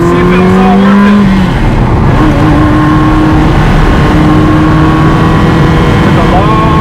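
Ferrari 360 Spider sports car driving, its engine a steady, loud drone with tonal hums shifting in pitch as it moves, a continuous road roar throughout and a voice briefly audible.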